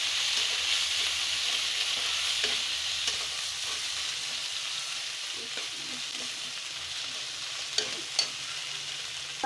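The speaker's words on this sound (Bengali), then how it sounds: "মাছগুলোকে সুন্দর করে ভাজা ভাজা করে নিব।" Boiled fish sizzles in hot oil, a soft, constant frying hiss up close, broken by several sharp spatter pops and stirring clicks, with no voices.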